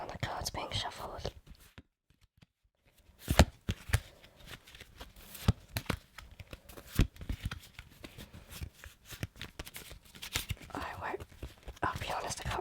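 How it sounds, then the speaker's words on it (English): Playing cards being shuffled and riffled in close, crisp bursts, with soft whispering between the flurries. "I love the sound of cards being shuffled."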